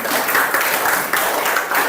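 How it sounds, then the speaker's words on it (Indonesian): A classroom of students claps briefly for a group representative in a school guidance lesson, a short burst of close, uneven hand claps. "berikan tepuk tangan kepada perwakilan dari kelompok 3"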